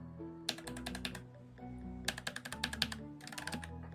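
Rapid bursts of clattery keystrokes on a noisy computer keyboard, close and crisp, in three quick flurries separated by short pauses, with electronic game music playing underneath.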